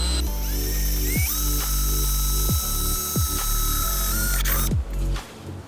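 Power drill with a 6mm bit boring a mud flap mounting hole at the wheel arch of a Ford Fiesta ST150, a close whining motor with several ratcheting knocks, stopping abruptly near the end.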